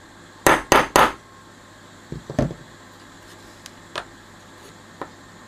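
A hammer flattening the flared head of a copper rivet on a pre-amp repair: three sharp, close strikes in quick succession, then a pause, then a few lighter taps spaced out over the following seconds.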